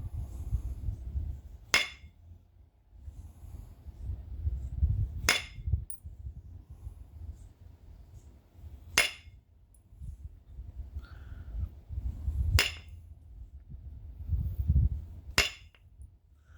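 Flint is struck to shape a knife blade, with five sharp, ringing knapping blows spaced a few seconds apart over a low, steady background hum.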